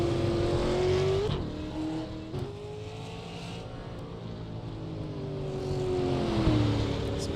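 A race car rolls down pit road at New Smyrna Speedway, its engine droning loud and close with a gliding pitch that dips and rises as it shifts and revs, alone without talk.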